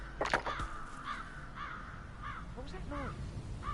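Crow cawing in the game Hitman 3, several harsh caws spaced out through the clip and sitting a little back in the mix, with a person talking at the start.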